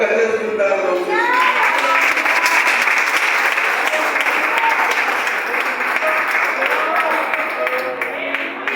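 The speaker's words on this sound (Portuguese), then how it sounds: "Você pode aplaudir o Senhor mais forte por esta palavra" A church congregation applauds during a worship service, producing a dense, loud, sustained wash of clapping that fills the room, with voices faintly mixed in beneath it.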